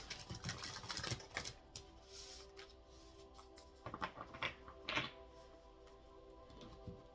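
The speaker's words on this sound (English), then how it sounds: "Last shuffle here for Aries." A deck of tarot cards riffles and slaps together in short bursts, a close papery shuffling with brief pauses between rounds.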